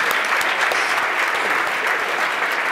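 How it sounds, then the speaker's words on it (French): An audience at an insurance awards ceremony applauds the jury members, steady dense clapping filling the hall throughout without a break. "je voudrais qu'on les applaudisse"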